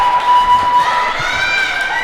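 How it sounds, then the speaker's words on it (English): Crowd cheering at a girls' volleyball championship game in a gym, Frisch against Ramaz, with fans on both sides, a steady loud roar holding through the two seconds with shrill whistle-like tones above. "so you hear that cheering"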